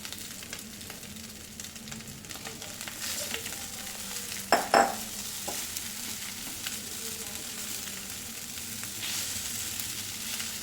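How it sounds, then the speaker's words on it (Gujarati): Sabudana (sago pearls) stirred in a sizzling pan for fasting-day khichdi, a steady soft sizzle throughout with a couple of sharp scraping stirs midway, close and fairly quiet, no talking. "હવે આપણે સાબુદાણા ઉમેરી લઈશું."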